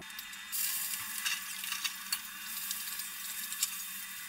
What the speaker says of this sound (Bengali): এবার আমি চিংড়ি মাছটাকে ভেজে নিচ্ছি।